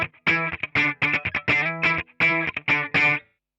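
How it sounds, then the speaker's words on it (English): Electric guitar plugged straight into a Boss AW3 auto-wah pedal and preamp, playing short choppy notes and chords with a sweeping, vowel-like filter on each attack, close and loud with brief silences between phrases. "the Boss AW3 is an AutoWah effect that has a few of the similar functions"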